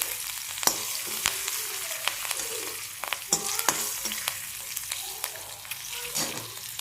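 Chopped tomatoes fry in a pan with cumin, mustard seeds, asafoetida, curry leaves and coriander for moong dal khichdi, giving a steady close sizzle broken by sharp scrapes and clicks of stirring.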